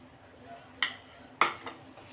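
Roasted gram flour and fresh cream are stirred in a pan, giving two sharp clinks of a spoon against the metal about half a second apart over a quiet background.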